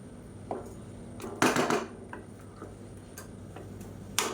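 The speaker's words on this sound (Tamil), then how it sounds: "நல்லா கலந்து விட்டுட்டு" Soaked basmati rice for egg biryani is stirred in a pot, giving a few light clinks and scrapes of a spoon against metal, close by and spaced irregularly.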